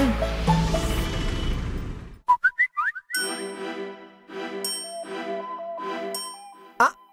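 A phone message notification chime rings out in a sequence of short bright dings against a steady tonal music bed, with a louder final ding near the end.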